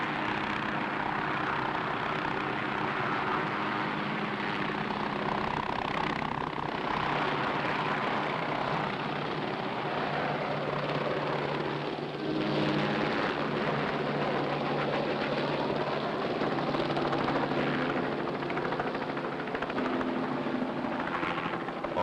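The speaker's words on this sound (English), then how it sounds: "Here come the choppers, man." Steady droning thrum of firefighting helicopters overhead at a waste management plant fire, rotor and engine noise filling the whole stretch and swelling slightly at times, with no voices.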